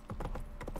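Roach the horse gallops in The Witcher 3, a rapid run of heavy hoofbeats pounding close and steady across the whole moment, with no voices over them.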